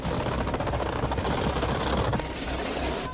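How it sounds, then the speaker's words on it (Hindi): Heavy machine guns and cannon fire without pause during coastal firing practice in a Venezuelan military drill, a dense, loud, continuous barrage of overlapping bursts. "समुद्र के तट पर हैवी मशीन गन और तोप से लगातार फायरिंग प्रैक्टिस की जा रही है।"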